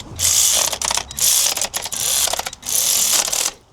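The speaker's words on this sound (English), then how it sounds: "going to use my electric ratchet because I'm bored of turning it by hand." Electric ratchet removing spark plugs from an old Ford van engine, three loud whirring bursts of clicking gear noise separated by short pauses, close up and with no talking.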